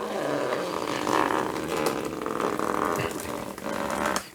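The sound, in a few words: paper being peeled off a Gelli plate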